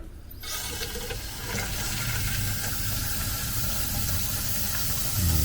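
Water flows back into an under-sink AMILO bypass charcoal filter cartridge with its purge screw open, a steady rushing hiss that starts abruptly and holds close and even, with no talking.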